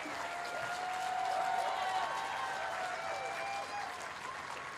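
Steady applause from an audience at an outdoor rally in Madison, Wisconsin, a dense, even wash of clapping that holds throughout, fairly distant and soft.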